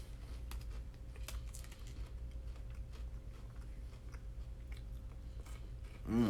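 Someone chewing Girl Scout thin-mint-style Rap Snacks cookies close to the mic, giving scattered faint crunchy bites and mouth clicks over a low steady hum, with no talking.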